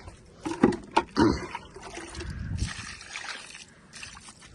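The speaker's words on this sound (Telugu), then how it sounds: "పొద్దున వాటర్ ఇచ్చాను కాబట్టి ఇప్పుడు ఒక్కొక్క మగ్గు పోస్తున్నానండి" Water poured mug by mug onto chilli plants, heard as close splashes and sloshing bursts, with a couple of louder pours early followed by a softer, lingering trickle.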